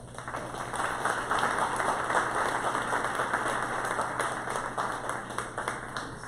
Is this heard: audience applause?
yes